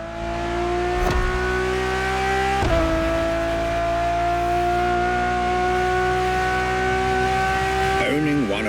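Ferrari Enzo V12 supercar driven in The Crew Motorfest, a steady high engine whine holding pitch and rising slowly, with brief shift dips and a tire squeal near the end, loud and close throughout.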